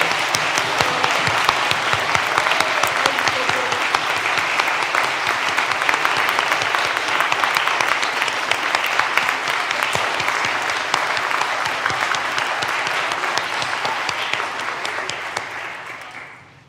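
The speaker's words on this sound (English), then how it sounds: "let's clap for our 9th graders" An audience claps for ninth graders at a school or church gathering, a loud, sustained round of applause lasting about fifteen seconds before tapering off.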